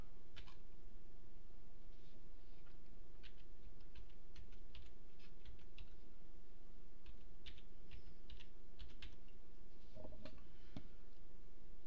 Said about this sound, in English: we're going to type in workshop or workbench workshop